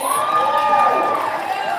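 An audience cheering for a poet at a women's poetry slam festival in downtown Las Vegas, loud whoops and shouts blending into a sustained crowd roar.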